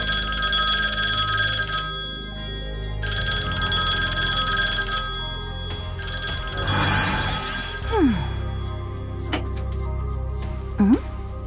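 An animated cartoon public payphone rings with repeated electronic bursts and short gaps, followed by whooshing cartoon effects and a couple of quick swooping tones.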